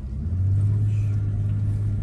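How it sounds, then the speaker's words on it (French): Mercedes CL65 V12 engine on big wheels, a steady deep low rumble building slightly as it pulls, heard from inside the car with no talking. "le moteur V12 de cette époque-là de chez Mercedes, il a une sonorité qui est juste incroyable."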